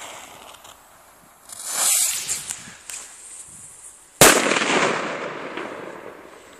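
Two sharp bird-scaring firecracker bangs (Explosiv HD Knall), the first a softer burst with crackle, the second a loud sudden crack followed by a long hissing decay, outdoors.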